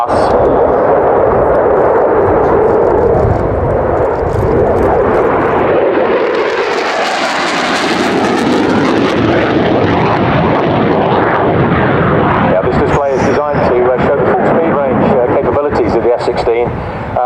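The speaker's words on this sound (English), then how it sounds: "accelerating in afterburner to around 620 knots for his high-speed pass" A Belgian Air Force F-16 roars past in afterburner on a high-speed pass at an airshow, the loud jet noise swelling, sweeping overhead and trailing into crackling rumble.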